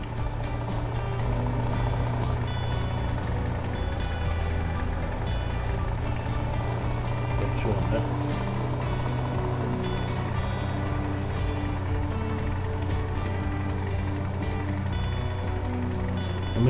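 Truck engine droning steadily in the farming game Landwirtschafts-Simulator 19, a constant low hum with faint repeated reversing beeps running throughout.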